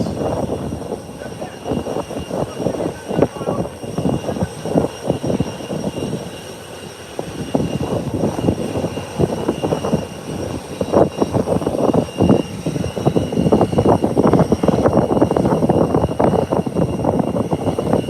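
An airliner at Howard Hamilton International Airport departs for Charlotte, its engines giving a broad, steady roar that holds loud and fairly near through the whole stretch, dipping briefly before swelling again.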